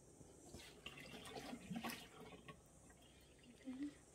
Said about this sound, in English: So you'll have to empty the hot water out.